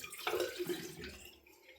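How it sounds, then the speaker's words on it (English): A soft, brief splash of water running onto a shaving brush, close and quiet, fading into a faint hiss. "A bit more water in that brush, I think."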